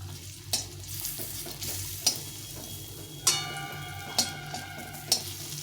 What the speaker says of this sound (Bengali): এখানে 4টে বড়ি নিয়েছি, নুন হলুদ মাখিয়ে এগুলো একটু ভেজে নেব।